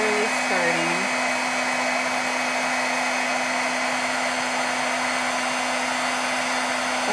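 An embossing heat gun blows hot air in a steady, loud whirring rush that runs without a break for the whole stretch, with a few faint tones near the start.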